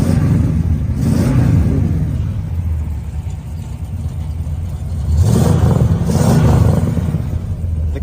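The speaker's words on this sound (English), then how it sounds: "The car just sounds great." A car engine rumbles steadily, swelling into two louder revving surges, one early and a stronger one later, with no voices.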